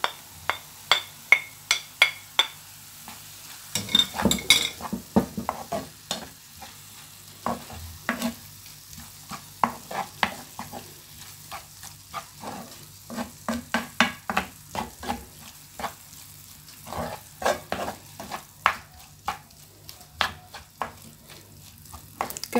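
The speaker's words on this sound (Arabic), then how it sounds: "كنخليو هادشي حتى يتشحر مزيان" Peppers and olives fry in a pan with a soft sizzle while a utensil stirs and scrapes against the pan in repeated quick strokes, close and crisp, no talking.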